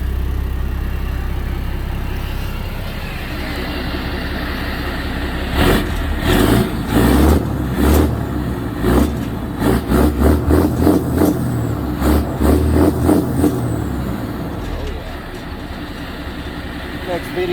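A 2009 GMC Topkick C7500 with a 7.8L diesel, straight-pipe exhaust and DPF removed, rumbling at idle, then loud rhythmic exhaust pulses and chugging bursts before settling back to a steady idle, with someone talking over it.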